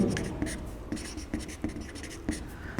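Chalk or marker strokes on a board during a physics class, a series of short scratchy taps and scrapes in irregular rhythm, close and fairly quiet with no talking.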